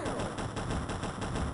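An interceptor's cannon in X-COM fires at an alien craft in a rapid, continuous burst of closely spaced shots, loud and even throughout.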